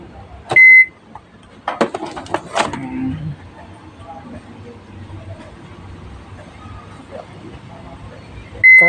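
A repaired microwave oven heats a wet rag, giving two short sharp beeps near the start and one at the end, with clicks and a low running hum between; people talk in the room.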